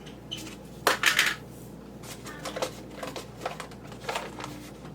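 Raisins sprinkled by hand over rolled cinnamon bread dough, landing as light scattered ticks and patters in a few small bursts, close and fairly quiet.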